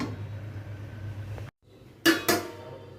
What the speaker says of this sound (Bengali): মিডিয়াম আঁচে বসিয়ে দিয়েছি, এবার ঢেকে দিচ্ছি